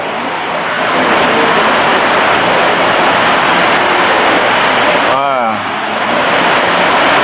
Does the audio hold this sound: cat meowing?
no